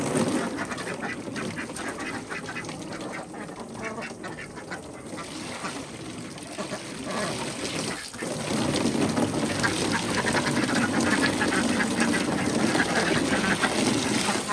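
Ducks quack and chatter steadily throughout, with splashing water noise underneath that swells louder partway through.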